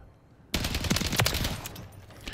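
An StG 44 rifle in a video game firing a rapid burst of loud gunshots that starts abruptly and runs for about two seconds, with no talking.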